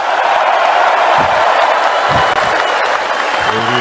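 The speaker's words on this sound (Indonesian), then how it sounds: "Tepuk tangannya kurang semangat." An audience at a political rally claps and cheers in a steady, dense wash of applause. Crowd voices and faint shouts are mixed in throughout.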